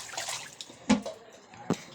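Rice-washing water being poured out, with faint splashes and drips, two brief louder splatters standing out over quiet background.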